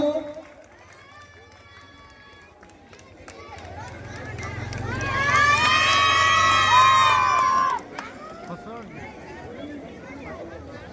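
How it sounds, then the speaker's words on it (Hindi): Crowd at a political party gathering breaks into loud cheering and clapping for several seconds, swelling then cutting off sharply, with shouts and whistles on top and talk before and after. "ताली मारो स्वागत करो"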